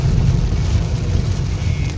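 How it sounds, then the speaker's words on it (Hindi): Heavy rain drums on a moving car during a countryside drive in Canada, a dense, steady roar of wet noise mixed with low road and engine rumble, loud and close, with no talking. "अभी भी आप देख सकते हैं बारिश जो है वो काफ़ी तेज़ हो रही है"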